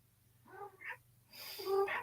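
A cat gives two short, soft meows a moment apart, the second a little louder and higher, both fairly faint and close with no talking.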